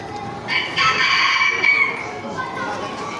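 A rooster crows once in a long drawn-out call in the morning, fairly close and clear, with some voices and background activity around it.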